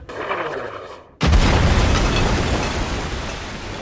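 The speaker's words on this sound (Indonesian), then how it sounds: "ia diikuti oleh Laksamana Garp dan langsung dibombardir dari belakang menggunakan bom" Bombs go off in a bombardment in the One Piece anime: a sudden heavy boom after a quieter stretch, followed by a loud sustained rumbling roar that slowly fades.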